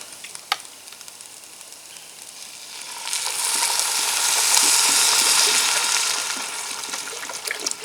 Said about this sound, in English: Those things smell really, really good, and they're cooking down.